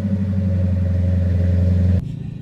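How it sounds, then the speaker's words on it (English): Car exhaust fitted with Flowmaster mufflers, alongside a Corsa intake and Scat 1 PCM tune: a steady, deep idle rumble held close and loud, then cutting off abruptly near the end. "What I learned with the Flowmasters is it just makes the car sound beautiful."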